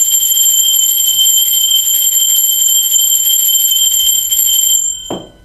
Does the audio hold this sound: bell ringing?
yes